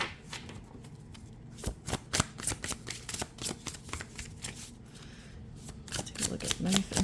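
Tarot cards being shuffled by hand, a run of crisp riffling snaps and flutters that quickens and grows louder toward the end, close and fairly quiet, with no talking.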